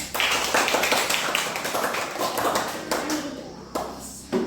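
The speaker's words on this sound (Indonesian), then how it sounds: "Tepuk tangan untuk kelompok 3." A fifth-grade class at an elementary school claps for a student group: dense, steady patter of many hands throughout, fairly near and moderately loud, with a brief dip toward the end.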